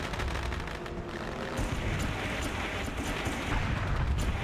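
Fireworks in a racing video game at Eldora Speedway, a dense rumbling wash of crackles and booms that runs steadily through the whole stretch without pause.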